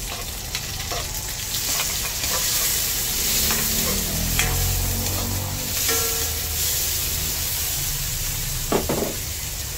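Tomatoes sautéing in a frying pan, with a constant loud sizzle and hiss and occasional scrapes and clicks of a stirring utensil against the pan.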